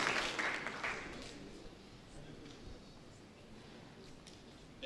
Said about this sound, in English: A round of applause, please, to Adrian Hall, CEO of Extension.